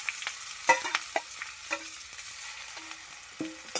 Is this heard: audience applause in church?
no